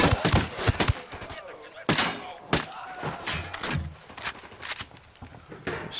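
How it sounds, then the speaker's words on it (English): Squad gunfire in the tactical shooter Ghost Recon Wildlands, in Caimanes Province: sharp automatic and single shots crack in irregular bursts, loud and close, with thuds in between. "now I'll tell them to shoot"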